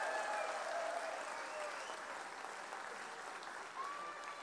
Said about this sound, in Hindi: एक बार ताली बजाकर इनका स्वागत करिए।